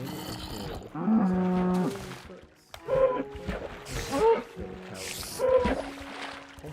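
A blocky cow moos in a Minecraft-like game, two or three long, low drawn-out calls with harmonic tones, close and clear, with other game sounds around them.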